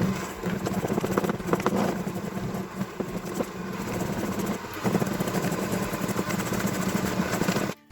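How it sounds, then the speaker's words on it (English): Butter and sugar are whisked together for a buttercream, making a steady, continuous whirring drone at moderate volume that runs without pause until stopping abruptly at the end. "Let's give this a quick whisk together."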